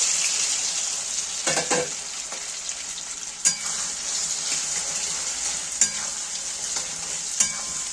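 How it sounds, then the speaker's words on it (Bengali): Soybean chunks fry in hot oil with a constant bright sizzle, broken by several sharp clacks and scrapes of a utensil stirring the pan. "দেখো তেলটা গরম হয়ে গেছে, এবার আমি সয়াবিনগুলো ভেজে নেব।"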